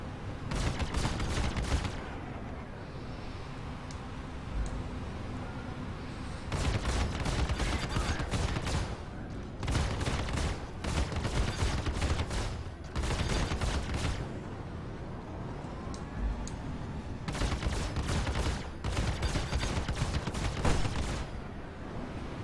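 Bursts of rapid laser cannon and repeater fire from a Gladiator fighter in the Star Citizen space game, loud clustered volleys separated by short pauses of engine hum.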